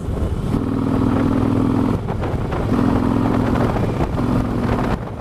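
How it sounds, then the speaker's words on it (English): A motorcycle engine rumbles nearby and revs up in three throaty pulses, each climbing then dropping back to a loud idle. "We listen to them pipes revving up like that"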